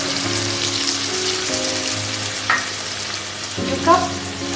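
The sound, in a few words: pork stirred in hot pan after adding warm water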